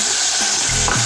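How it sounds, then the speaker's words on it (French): Onions sizzling in a hot pan, a dense close frying hiss with a low rumble from stirring across a short stretch, no voices. "J'ajoute des oignons."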